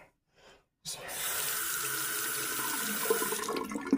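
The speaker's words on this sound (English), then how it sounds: "Let's put some water in." Water gushes steadily from a tap into a sink, a loud continuous rushing splash after a brief quiet start with a faint noise.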